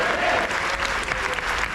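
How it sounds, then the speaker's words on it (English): A crowd claps steadily and warmly for teachers at the KVM School Ludhiana alumni golden jubilee gathering, a dense, continuous round of applause throughout. "they also deserve a good round of applause and 3 cheers"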